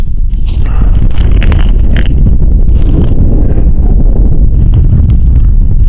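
Strong gusting wind blasts continuously across the microphone on an open frozen lake during an ice fishing outing, a loud, steady low roar with rough buffeting and brief crackles, no talking.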